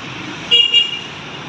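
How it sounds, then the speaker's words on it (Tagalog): City street traffic on a busy Makati road, with a steady hum of vehicles and two short car-horn toots close together midway through. "Unti-unti na rin dumadami yung sasakyan"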